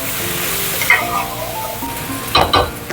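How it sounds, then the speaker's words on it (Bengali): Lentil dumplings (bori) being stirred in a pan with vegetables for a winter chachari, a steady sizzle broken by several sharp scrapes and clanks of the spoon. "বড়িগুলো দিয়ে একটু নাড়িয়ে নিই"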